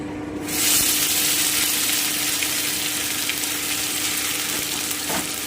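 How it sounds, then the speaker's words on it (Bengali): Green pea paste hits hot oil in a kadai for a Bengali dhokar dalna, starting a loud, close, steady sizzle that runs unbroken to the end, with faint stirring scrapes and no voices. "এবারে আমি এতে একটু তেল দিয়ে দিচ্ছি আমার কিন্তু তেলটা গরম হয়ে গেল এবারে আমি মটরশুঁটির পেস্টটা দিয়ে দিচ্ছি"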